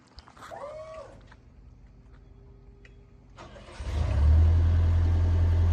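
A 1999 JLG 600S telescopic boom lift's Deutz diesel engine cranks briefly and catches, settling into a loud, rough, low idle close by after a few quiet moments.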